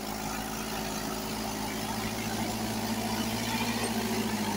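A Mahindra 275 tractor strains to pull a loaded trolley that is stuck. Its engine gives a steady, unbroken low drone at moderate volume, with no speech over it.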